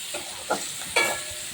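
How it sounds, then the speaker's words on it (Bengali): Chopped onion and crushed garlic fry in a pan for a rustic chicken dish, with a steady soft sizzle and two distinct scraping stirs of a spatula. "নাড়াচাড়া করে নিচ্ছি কুচনো পেঁয়াজটা"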